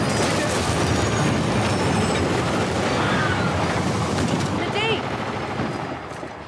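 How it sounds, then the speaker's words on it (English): In the video game Uncharted: The Lost Legacy, a train rumbles and clatters loudly nearby amid dense gunfire-like noise during a chase, the roar holding steady before fading slightly at the end, with voices shouting over it. "Train's getting closer!"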